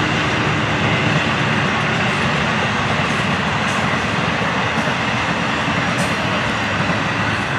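Florida East Coast Railway freight train 105 rolling past trackside at a junction, a steady, loud broadband rumble of wheels and wagons that holds evenly throughout, with faint higher clanks and squeals on top.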